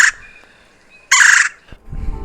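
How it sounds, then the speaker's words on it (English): Two short, rolling churring calls from a red-bellied woodpecker, separated by about a second of quiet, with low rustling noise after the second call. "and the red-bellied woodpecker."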